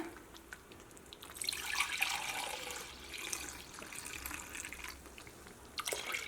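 Second-press coconut milk pours steadily into a pot of cherupayar payasam for an Onam dessert, making a soft, continuous liquid splashing at close range that swells midway and then settles.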